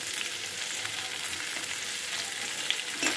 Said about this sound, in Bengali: ভালো করে এগুলোকে নাড়াচাড়া করে ভেজে নিতে হবে।